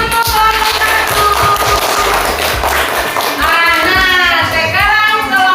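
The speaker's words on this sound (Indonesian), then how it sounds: "Tepuk tangan untuk kelompok 1." A classroom full of people claps for the first group, a dense, loud burst of applause that holds steady throughout with voices and cheers mixed in.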